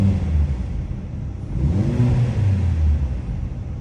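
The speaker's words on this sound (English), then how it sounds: "I'm going to give you guys some revs in comfort mode without the performance exhaust on." A 2025 Mercedes C43 AMG in comfort mode, with the performance exhaust off, revs from inside the cabin, giving a muffled low rumble that swells and settles in a single rise, steady and fairly loud with no voices.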